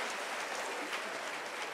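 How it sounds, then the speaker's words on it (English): Conference audience applauding at the close of a debate at Singapore Perspectives 2014, steady dense clapping from a large hall, faint and even with no voices over it. "A big round of applause, please, to the team"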